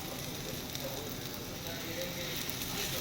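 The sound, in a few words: paratha shallow-frying in oil on low flame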